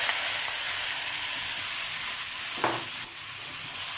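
Chopped tomatoes go into a pan of frying chicken karahi, producing a loud continuous sizzle with stirring and a couple of sharp scraping knocks near the end.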